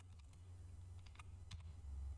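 Faint typing on a computer keyboard, a few soft scattered key clicks over a low steady hum, with no voice.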